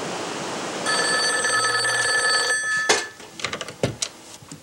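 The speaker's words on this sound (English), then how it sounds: "There was a time when a phone call came in from California." A 1980s office telephone rings with an incoming call, a loud sustained electric bell over steady hiss that cuts off into a few clattering handling knocks as the receiver is picked up.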